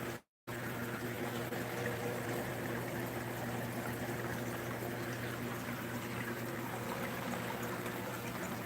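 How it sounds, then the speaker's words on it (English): A small aquarium filter pump in a plastic tub, giving a steady trickle and splash of water with a faint motor hum that runs on without a break. "Little tiny pump."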